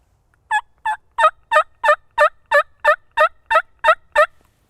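A hunter's diaphragm mouth call imitating a wild turkey yelp: a string of eleven evenly spaced, raspy two-tone notes, clear and close against a quiet background.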